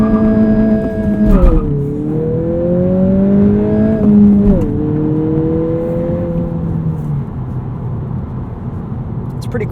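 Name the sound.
2020 Honda Civic Si sedan accelerating 0 to 60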